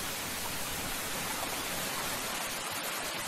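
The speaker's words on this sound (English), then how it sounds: "I could hear rain, but I couldn't see the rain." Steady rain in the Minecraft-style horror game Goodbye New World, a dense, constant hiss filling the whole clip at an even level, with no talking.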